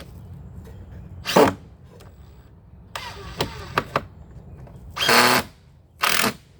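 Power drill driving a screw into a wooden concrete form board for a step, heard as short whirring bursts with brief gaps, fairly close and alone.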